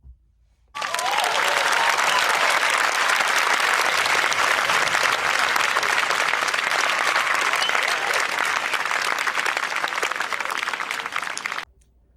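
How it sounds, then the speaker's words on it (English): Sustained, loud audience applause at the end of a speech, dense steady clapping from a large crowd running about eleven seconds with no talk over it, then cutting off. "The applause you receive at the end is the best part of giving a speech."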